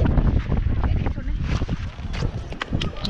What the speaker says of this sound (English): Oh, so windy over here.